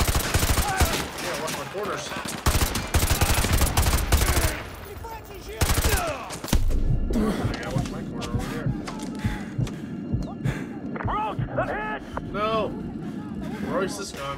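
Call of Duty: Modern Warfare 2 Remastered campaign combat: loud bursts of automatic gunfire and single shots come thick at first, then thin into scattered shots amid engine rumble, with a voice talking throughout.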